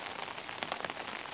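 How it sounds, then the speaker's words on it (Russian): Steady rain patters around a residential neighborhood near a home and small shop, an even hiss of drops on surfaces with no voices. "дождь, конечно, противный"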